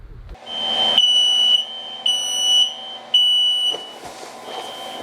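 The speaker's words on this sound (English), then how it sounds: "we want you to hear the beep where you sleep" A home smoke detector sounds a loud, shrill electronic tone in repeated bursts of about a second each, separated by short gaps, close and alone with no talking.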